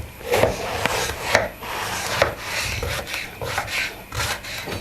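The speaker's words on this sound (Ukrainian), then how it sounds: "Починаємо готувати з баклажана. Відрізаємо йому жопки та нарізаю доволі крупними шматками." A knife chops through soft vegetable on a wooden board, a series of irregular cuts and scraping strokes, close up with no talking.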